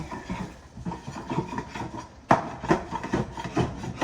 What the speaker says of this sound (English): It's just scraping this flavor off the bottom of it.